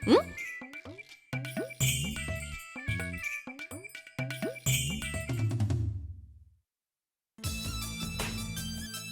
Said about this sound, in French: Son téléphone sonne.